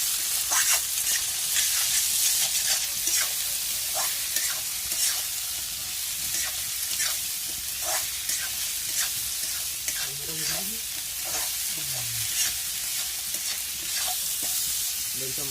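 Meat frying in a pan over a wood-fired village stove, a steady loud sizzle with repeated scraping stirs, close up, and a few faint background voices in the middle.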